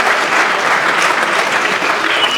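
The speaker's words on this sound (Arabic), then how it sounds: "صفقوا مع راسكم صفقوا" Audience applause at a live comedy show at the 2024 Fez comedy festival, dense steady clapping from a crowd filling the whole stretch at even loudness.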